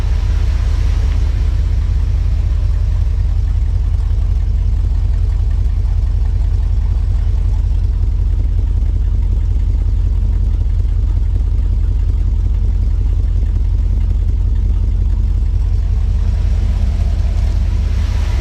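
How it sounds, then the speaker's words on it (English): A 1964 Dodge Custom 880 V8 with a newly fitted 4-barrel intake idles cold, a deep, throaty, steady rumble that is loud and close and runs alone throughout. "I will say the motor sounds much more throaty,"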